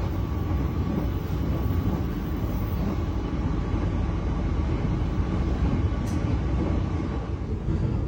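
An economy-class Gaya Baru Malam Selatan passenger train stands at Cikarang station, heard from on board as a constant low rumble and hum with a faint steady tone and no voices.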